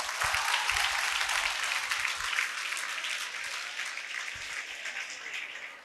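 A school hall full of students applauding during a motivational talk, dense, loud clapping that holds steady for several seconds before tapering off, with a few low thumps underneath.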